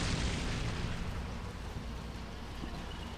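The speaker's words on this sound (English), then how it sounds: "A lot of artillery fire coming in." Dull, rumbling booms of incoming artillery shells in the Combat Mission Black Sea war game, a sustained low roar fading slightly, with no talk.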